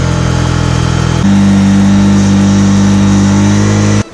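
A vehicle engine cranks on the self-starter and catches at once, then revs up strongly and holds a loud, steady high idle close by before cutting off abruptly at the end.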